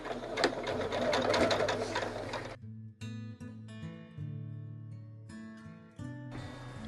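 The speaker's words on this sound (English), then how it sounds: "So I'm going to start sewing here and sew all the way around." A home sewing machine stitches fabric scraps for a home decor project, first in a long continuous whirring run, then in several short stop-and-start bursts of close, steady mechanical stitching.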